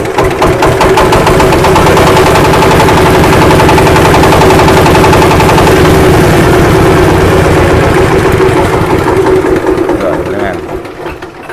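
The engine of a MAKTANI MT212 rice milling machine runs loud and close with a heavy, fast knocking chug that stays steady for several seconds and then fades slightly, with people talking over it.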